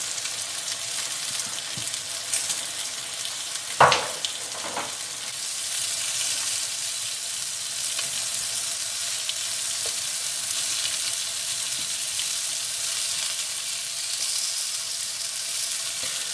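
Courgettes seasoned with paprika fry in a pan with a steady, even sizzle, broken briefly by a couple of sharper clatters or stirs early on; no one speaks.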